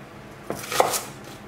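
A knife splits peeled shallots in half on a cutting board, giving two short, close cuts about a third of a second apart in a quiet kitchen.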